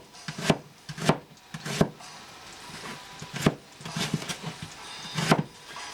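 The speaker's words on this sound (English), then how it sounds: "And chop this onion up real quick." A knife slices through an onion on a wooden cutting board, with about seven sharp, distinct chops spaced irregularly and heard up close. Faint rubbing sounds come between the cuts.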